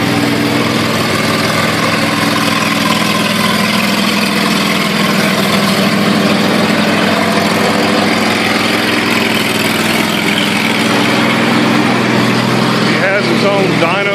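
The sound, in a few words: small 22 horsepower engine running on a dyno stand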